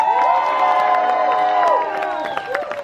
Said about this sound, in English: Big round of applause for these three young men.